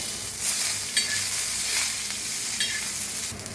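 Green chillies, garlic and peanuts roasting in a pan over low gas for thecha, giving a soft steady sizzle with a few light stirring scrapes and clinks, close up with no voices.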